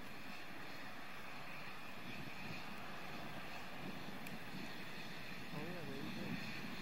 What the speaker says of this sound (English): Discovery's three engines now powering the second stage.